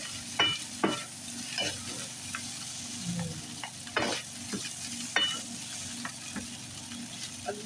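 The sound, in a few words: chicken fried rice with veggies frying and being stirred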